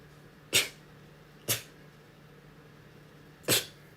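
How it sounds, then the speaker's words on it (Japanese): Three separate sneezes from a young Japanese woman, sharp and fairly close, spaced about a second and two seconds apart over a faint steady hum, with no talking. "くしゃみが止まらない。"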